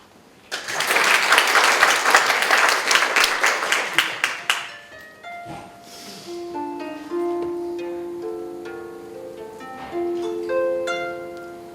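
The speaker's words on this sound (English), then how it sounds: "Round of applause for the goddess Janet on the harp" An audience applauds the harpist Janet, with dense, loud clapping for about four seconds that quickly thins and fades before plucked harp notes ring out alone.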